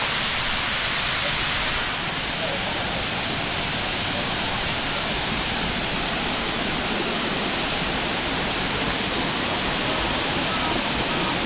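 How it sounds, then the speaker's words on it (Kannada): Water falls at the Srinivasa Sagara dam with a loud, constant roaring rush that fills the whole stretch evenly and close by, with no break and no voices heard above it. "ನಿಮ್ಗೆ ಇಲ್ಲಿ ಕಾಣಿಸ್ತದೆ ಫಾಲ್ಸ್ ಹೇಗಿದೆ ಅಂತ."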